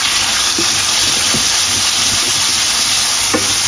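Salmon grilling and sizzling loudly in a hot pan as a knob of butter goes in, a dense continuous hiss and crackle heard up close with a few faint clinks and no talking.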